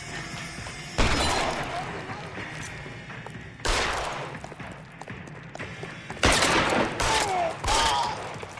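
Gunfire in the L.A. Noire video game, several loud bursts of shots with crashing, shattering impacts, arriving in separate volleys with short quieter gaps between them.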